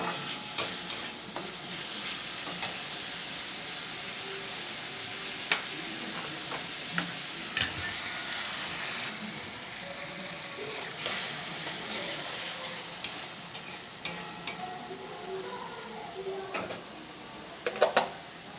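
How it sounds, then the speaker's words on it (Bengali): A spatula scrapes and taps in a pan as spice paste with chopped tomato and a little water is stir-fried for a prawn and cabbage curry; a soft, steady sizzle sits under irregular clinks, fairly quiet and with no talking. "এবার মশলাটা ভালো করে অল্প অল্প জল দিয়ে কষিয়ে নিতে হবে যতক্ষণ না তেল ছাড়ে।"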